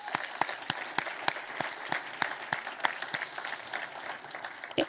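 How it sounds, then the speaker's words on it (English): Scattered applause at a sustainability summit, a modest audience clapping with distinct individual claps standing out, fairly faint and a little uneven. "which I think we should give them a round of applause."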